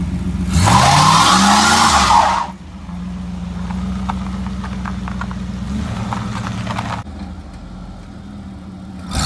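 A wrecked junkyard Chevrolet Camaro does a burnout. A loud tire squeal and engine roar are followed by a rough, revving engine that drops to an uneven running note, then rises again at the end.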